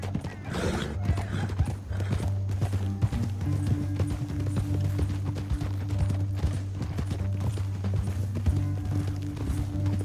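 Steady clip-clop of horse hooves galloping at a quick, even rhythm in the video game Red Dead Redemption 2, with a low droning hum beneath and an occasional whinny early on.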